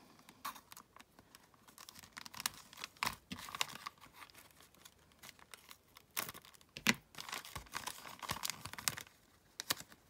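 Golden gift wrapping paper being carefully unwrapped from a parcel, with soft crinkling, rustling and small tearing sounds coming in quiet irregular bursts, close by and with pauses between handlings.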